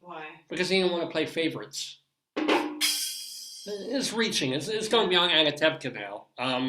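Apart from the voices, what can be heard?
No distinct noise like a dog, phone or traffic.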